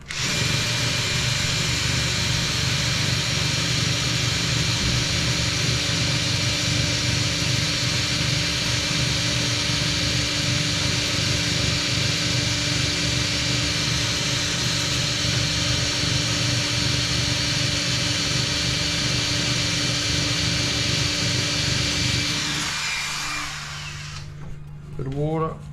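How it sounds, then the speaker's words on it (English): A hammer drill bores into a wall while a towel rail is put up, a loud continuous grinding whine with a steady pulsing hammer rhythm held for over twenty seconds before winding down, close to the listener, with a brief voice near the end. "hammer drill."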